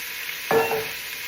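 Chopped vegetables hit a hot pan holding caramelised beef for a stew, a sudden loud hiss and sizzle that swells then settles into a quieter steady frying crackle.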